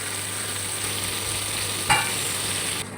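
Squid pieces fry in oil in a pan, a steady close sizzle running throughout with one sharp louder spatter or scrape near the end, no voices.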